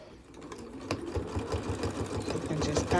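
A sewing machine runs steadily while stitching lace onto a towel, its fast mechanical whir rising and holding, with a brief back-stitch, heard close and alone.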